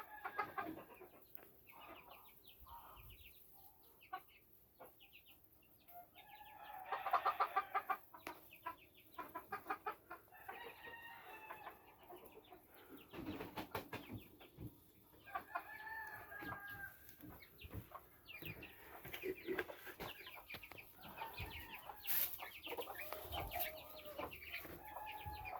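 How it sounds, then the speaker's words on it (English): Purebred jungle fowl, three adults, clucking and crowing on an off-grid homestead during morning chores, several overlapping calls and cackles, moderately near, with a rooster crow among them and faint background noise. "But these are pure jungle fowl"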